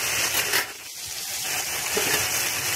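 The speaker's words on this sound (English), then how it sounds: "I want to give that a good sear" Beef shank sears in a hot pot with a steady, loud sizzle and crackle of frying meat, continuous throughout, with faint stirring or turning noises.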